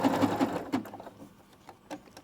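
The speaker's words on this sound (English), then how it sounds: "I'm going to set my needle and I'm going to sew forward" A sewing machine stitches forward in a quick rapid-fire rattle for under a second, then slows to a few scattered clicks, close and fairly quiet.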